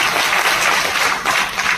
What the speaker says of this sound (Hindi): 2 लाख झंडा का जोरदार ताली बजा करके स्वागत करिए